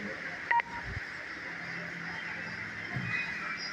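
A PhonePe smart speaker powers on after its button is pressed, giving a short bright electronic tone burst near the start with a steady faint hum and low voice-like murmur behind it.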